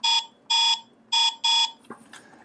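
Small horn on a model Volkswagen Beetle build beeping four short, loud electronic bursts in an uneven rhythm, followed by faint clicks as it is switched off.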